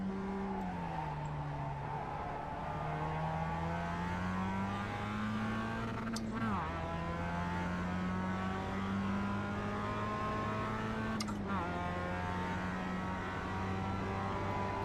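NASCAR-style race car in the iRacing simulator, a steady engine drone rising in pitch under throttle, then two sharp upshifts that drop the revs before it climbs again.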